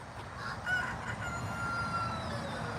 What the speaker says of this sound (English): it looks like most of the chickens are back inside, but I guess some were left